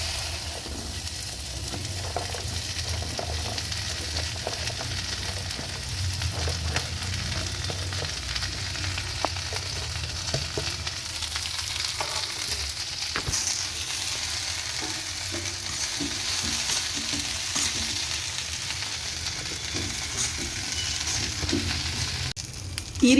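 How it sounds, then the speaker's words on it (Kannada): Okra fries in two spoons of oil in a wok, giving a steady soft sizzle and crackle with occasional scraping stirs, close and fairly quiet throughout. "ಅದರಲ್ಲಿ ಬೆಂಡೆಕಾಯಿ ಹಾಕಿ ಫ್ರೈ ಮಾಡ್ತೀನಿ"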